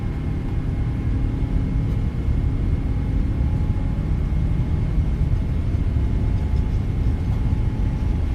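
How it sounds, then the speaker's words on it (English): Airliner jet engines spooling at takeoff power in Microsoft Flight Simulator 2024, a steady loud roar with deep rumble and a faint tonal whine holding throughout, no voices. "We'll go ahead and set takeoff power."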